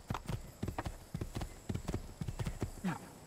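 Horse hooves clop in a quick, uneven rhythm as a rider travels on horseback in Assassin's Creed II. The hoofbeats are close, clear and continuous, with little else around them.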